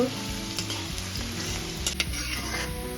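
Onions fry in a pan until golden, a dense steady sizzle close up with occasional stirring scrapes and clinks, no voices.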